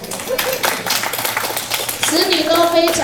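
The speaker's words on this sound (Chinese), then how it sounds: "这个要用力拍手一下" Guests clap at a 90th birthday banquet, a quick run of sharp hand claps over chatter, followed by a louder stretch of voices and singing-like tones.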